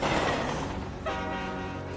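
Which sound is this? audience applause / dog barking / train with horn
train with horn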